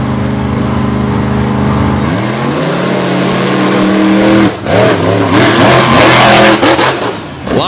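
Monster trucks on the Renegade Monster Truck Tour race side by side from the starting line, engines droning then revving up hard with rising pitch, loud and close, with no talk.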